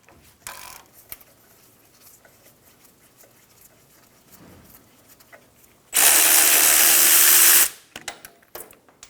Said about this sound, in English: Using a 17mm socket, remove the caliper bolts.